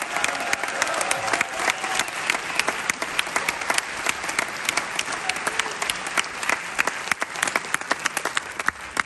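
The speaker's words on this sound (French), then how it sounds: "Je vous demande de les applaudir très fort." A large crowd at a political rally applauding loudly and continuously, dense sustained clapping with occasional cheers, no speech standing out.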